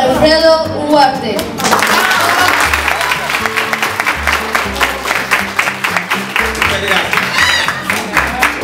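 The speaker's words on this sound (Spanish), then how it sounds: "Saludemos con un fuerte aplauso al entomólogo Alfredo Ugarte." Applause from an audience at a school welcoming an entomologist, clapping rising after a brief spoken voice and continuing in a rhythmic, uneven patter, with music or tones sounding alongside.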